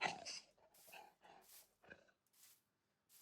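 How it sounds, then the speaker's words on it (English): A dog in a jungle survival game makes faint, soft breathy sniffs and short snuffling sounds in a few separate bursts, quiet and close with gaps of near silence between. "There's a doggy."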